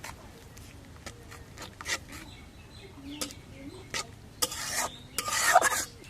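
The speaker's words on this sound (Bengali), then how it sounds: "এখন মশলাগুলো একটু নাড়া দিয়ে দিই।" Spices, including turmeric powder, being stirred in a cooking pan for a silver carp and ash gourd curry: intermittent scraping and rasping strokes, some louder near the end, over low kitchen background.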